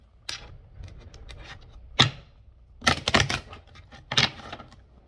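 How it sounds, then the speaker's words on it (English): Tarot cards are shuffled in a quick run of crisp riffling clicks and flutters, arriving in several short bursts with pauses between, close and clear and free of talk. "Let me just shuffle this one time."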